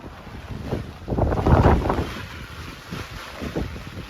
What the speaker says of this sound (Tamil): இப்போ பார்த்தீங்கன்னா காற்று கொஞ்சம் ஜாஸ்தியாக இருக்குது